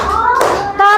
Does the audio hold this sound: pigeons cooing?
no